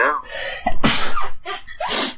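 A single sharp human sneeze bursts out loudly and close up, with a quick breath drawn before it and a brief voice right after.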